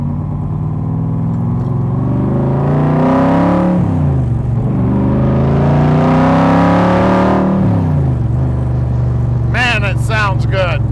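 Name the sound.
1965 Shelby Cobra Backdraft with Jack Roush engine revving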